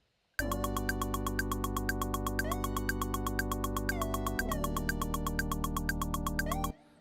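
A fast, even stream of sixteenth-note hi-hat ticks over a sustained synth tone that shifts pitch midway, then stops.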